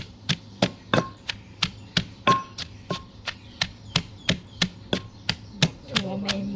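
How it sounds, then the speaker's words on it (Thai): Green beans pounded in a mortar for an Isan-style Thai bean salad, a steady series of sharp, evenly spaced thuds at about three per second, close and alone. "กำลังตำบักทัว บักทัวใหม่ๆพี่น้องเอ้ย"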